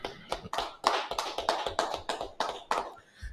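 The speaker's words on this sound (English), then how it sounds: "clap it up." About ten sharp claps in an uneven, loose rhythm, close and fairly loud, with brief pauses between bursts.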